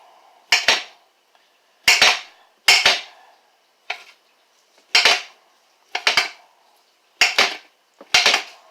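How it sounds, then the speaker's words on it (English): Knife chopping smoked sausage into small slices on a cutting board for chili, sharp distinct knocks at irregular intervals of about a second, about eight cuts close up with quiet gaps between them and no talk. "I just like to cut it up into, small slices."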